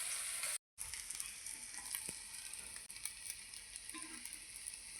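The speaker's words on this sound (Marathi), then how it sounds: "आता आपलं आमलेट परतून घेऊया।" An egg omelette fries in a pan, giving a continuous soft sizzle with a momentary cut-out and a few faint clinks from turning it.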